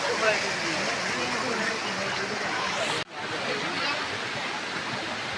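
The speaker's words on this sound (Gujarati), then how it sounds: "પાછળ જોઈ શકો છો કેવો ધોધ પડી રહ્યો છે" A waterfall near the Jatashankar Mahadev temple in Junagadh roars with a constant, dense rush of water, loud and close, with a brief break partway through.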